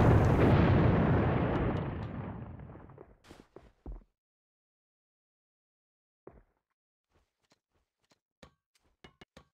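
A grenade explodes in the shooter game AVA with a loud, close, rumbling blast that decays over about three seconds, followed by a few sharp knocks and scattered faint clicks and footstep-like taps in near silence.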